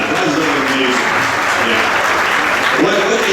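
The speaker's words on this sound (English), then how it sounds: "we gotta give a round of applause for that." Dense festival crowd applause at an outdoor Rath Yatra celebration in Toronto, a loud, steady wash of clapping lasting the whole stretch, with voices mixed in beneath.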